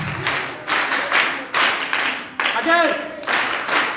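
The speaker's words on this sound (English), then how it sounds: "we're going to give them, do we have the school clap?" School children at Princess Primary School perform a rhythmic group clap, several sharp bursts of many hands in steady patterns, with an adult voice speaking briefly between them.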